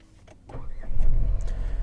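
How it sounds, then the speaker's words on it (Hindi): A Renault Triber facelift cranks briefly before its engine catches and settles into a close, steady idle hum. "स्टार्ट होने में हल्की सी इंजन की आवाज़ आती है।"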